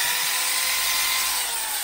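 Buffing machine polishing a car's body panel, a loud steady whirring motor drone with a bright abrasive hiss that holds constant and close for the whole stretch.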